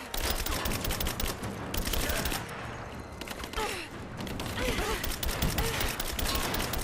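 Gunfire in the video game Rise of the Tomb Raider, with rapid bursts of shots crackling steadily through the scene under faint game sounds.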